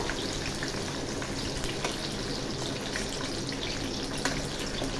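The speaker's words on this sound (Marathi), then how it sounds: "शिमला मिर्च थोडीशी झाली, जरा हलकीशी नरम पडली की मग आपण कांदा घालूया।" Capsicum and onion fry over a high flame for pav bhaji, giving a steady, dense sizzle throughout with a few faint clicks of stirring and no voices.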